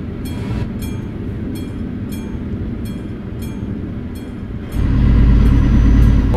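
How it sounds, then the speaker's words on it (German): In Euro Truck Simulator, a train rolls past with a steady, loud rumble and a rhythmic clatter of wheels over rail joints, and the low roar swells heavier near the end. "da fährt doch ein Zug."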